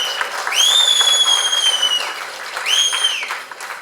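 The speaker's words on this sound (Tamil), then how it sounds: "அவனுக்கு வந்து ஹோலர் பண்ணி கைத்தட்டிக்கிட்டே இருக்காங்க" A theatre audience claps continuously, loud and close, while two long, high shrill whistles cut over the applause, one held for over a second and a shorter one after it.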